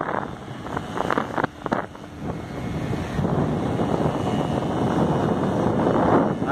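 Wind roars at Piedade beach, a steady loud rush that buffets the microphone throughout and grows stronger toward the end, with no voices heard.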